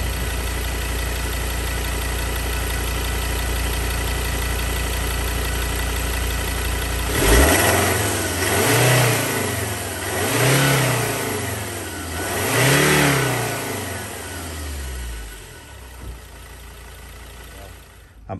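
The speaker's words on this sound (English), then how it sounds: "We'll give it a quick rev just to hear what it sounds like." A Ford Ranger 3.2 diesel engine, freshly serviced after an intake manifold clean, idles steadily and is then blipped three times in quick succession, each rev rising and falling, heard close up under the open bonnet.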